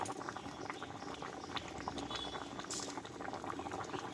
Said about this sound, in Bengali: দেখো তরকারিটা কিন্তু ফুটতে লেগেছে